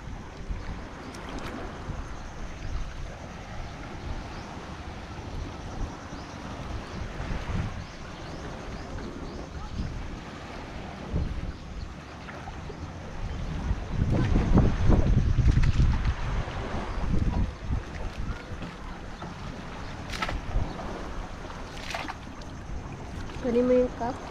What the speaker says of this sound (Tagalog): May parating pang bangka.